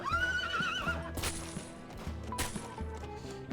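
A horse in the survival video game HumanitZ lets out a loud, high neigh near the start, followed by snorts and steady clip-clop hoofbeats with bursts of movement noise, no talking.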